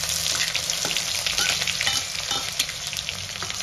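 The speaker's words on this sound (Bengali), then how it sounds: "এবার পেঁয়াজটা আমরা হালকা ফ্রাই করার জন্য ছেড়ে দেবো এখানে, পেঁয়াজটা মস্ত লাল লাল ফ্রাই হবে" Onions frying in oil in a pan after bay leaves and cumin, a dense, continuous sizzle close by with light stirring scrapes throughout and no talking.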